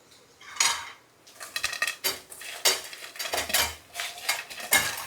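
Crab pieces clatter into a metal pot and are stirred with a utensil, giving a string of sharp knocks and scraping clinks in an irregular rhythm, close and clear, with no talk.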